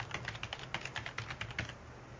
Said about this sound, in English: And I'm just going to type in the URL that I'd like to link to.